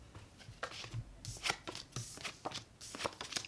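Tarot cards being shuffled by hand up close, a run of quick papery riffles and taps in an irregular rhythm, moderately loud with no talking.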